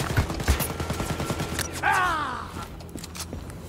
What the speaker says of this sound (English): I'm shooting at the Nazis!